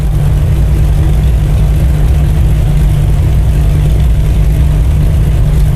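Steady, loud piston aircraft engine drone of an Avia BH-5 in a flight simulator game, a continuous low hum running unbroken throughout with no talk.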